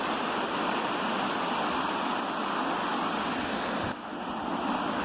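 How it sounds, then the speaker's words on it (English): Waterfall at Elsecar, a former mining village, a steady loud broadband rush of falling water heard close, with a brief dip near the end. "This is the new waterfall. So that's the waterfall, guys."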